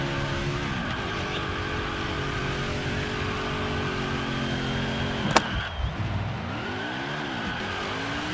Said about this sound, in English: wrap up this burnout in 3